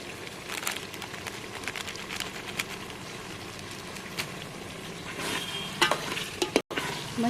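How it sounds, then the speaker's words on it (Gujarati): Masala stirred into a sizzling tempering of chutney spice and garam masala in a pan for rasiya bhat, with soft frying crackle under repeated scraping strokes of a spoon that grow busier toward the end. "મસાલાને આપણે મિક્સ કરી દેવાનો છે"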